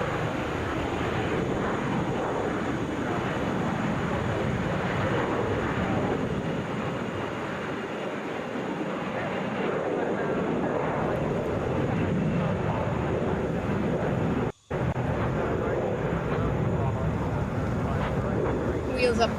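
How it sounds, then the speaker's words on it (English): Delta Airbus A321 airliner taking off from Atlanta for Las Vegas, a loud sustained broadband engine roar holding steady throughout, with one brief dropout near the end. "This is Delta Flight 659, headed to Las Vegas,"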